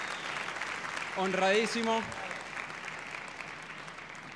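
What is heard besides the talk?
audience applause at awards ceremony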